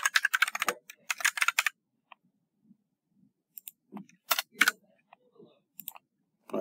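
Quick bursts of keystrokes clatter on a computer keyboard while a variable is renamed in the Snap programming environment, with fast runs of taps followed by scattered single clicks and pauses, close and clear.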